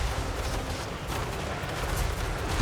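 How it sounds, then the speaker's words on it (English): Flame cannons in a Total War: Warhammer 3 Dwarf battle fire amid a dense, rumbling roar of artillery and gunfire that rolls on continuously without a break. "the flame cannons steal the show"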